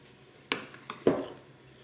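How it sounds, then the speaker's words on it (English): Pavlova meringue mixture is spooned onto baking paper, giving a few soft clinks and scrapes of a spoon against a bowl, close and quiet, with no talk. "Now take your pavlova mixture and just place big spoonfuls on the outside edge of the circle"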